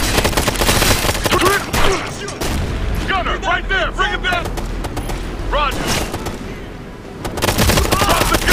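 Light machine gun fire in the video game Ghost Recon Future Soldier, dense loud bursts running throughout under shouted voices and radio-style callouts.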